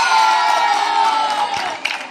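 Secondary-school students erupt in a loud, brief burst of shouting and cheering as a crowd, a dense roar of young voices that tapers slightly toward the end.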